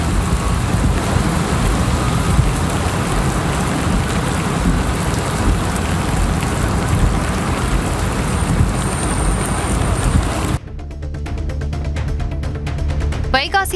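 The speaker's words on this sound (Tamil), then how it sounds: "கடலூர் மாவட்டத்தின் பல்வேறு பகுதிகளில் பலத்த காற்றுடன் கூடிய கனமழை பெய்தது." Heavy rain with strong wind pours down across Cuddalore district in Tamil Nadu, making a loud, dense, continuous hiss that cuts abruptly to a different, rougher texture near the end.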